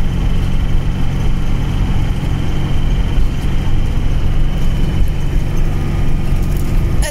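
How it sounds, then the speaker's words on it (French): Camper van engine droning steadily while driving on a road in Croatia, a loud, even low rumble filling the cabin without pause. "Désolé pour le son parce que bon voilà, le bruit du moteur."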